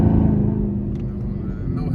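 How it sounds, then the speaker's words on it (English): A 2019 Chevrolet Camaro ZL1 V8 makes a deep, steady rumbling growl with a loud, close exhaust note, and a voice may be faintly present underneath. "the growl and the whine. I love the exhaust note. I love the engine note."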